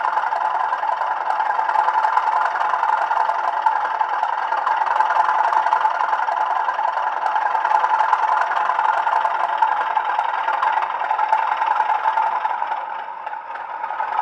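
A Bachmann Class 37/4 model locomotive's sound unit plays a diesel engine revving, a steady droning hum with a faint rattle that holds level and then eases slightly at the end.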